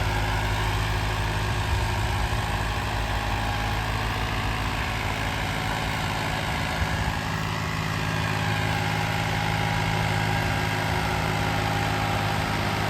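A Massey Ferguson 254 tractor engine labors while pulling a disc harrow through a field, a steady, loud diesel drone with a deep low rumble that holds constant throughout, close by and without talk.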